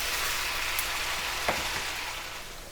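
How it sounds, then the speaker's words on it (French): Pork flank sautéing with spices in a pan gives a steady, close broadband sizzle, with a few soft stirring scrapes partway through and no talking. "quand tu fais sauter la viande avec beaucoup d'épices pendant longtemps, les épices peuvent brûler et noircir"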